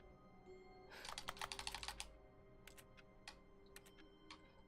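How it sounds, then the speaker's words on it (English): Keyboard typing sounds from the video game The Stanley Parable: a rapid burst of key clicks, followed by scattered single taps, fairly close and clear over a low background hum. "Can you hear the keyboard noise in the game?"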